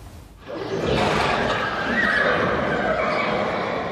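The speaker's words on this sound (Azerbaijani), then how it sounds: "Azərbaycanın ən qədim at cinslərindən olan dilbaz atları indi xüsusi qayğı və müasir tələblərə cavab verən yeni kompleksdə bəslənir." A Dilbaz horse, an old Azerbaijani breed used for pack work and light harness, gives one long, loud whinny that starts after a brief quiet moment and carries on steadily until the end, close and alone with no speech.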